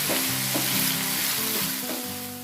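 Carrot halwa with sugar stirred on a high flame, the pan giving a loud, continuous sizzle with steady scraping strokes as the moisture cooks off.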